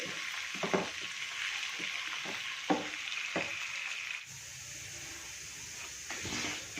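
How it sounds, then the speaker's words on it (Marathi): Moong dal fries in oil in a pan for a Bharangi bhaji, a steady soft sizzle with a few light clinks and stirring scrapes, quiet and close. "छान ऑइलमध्ये आपण फ्राय करून घेणार आहोत"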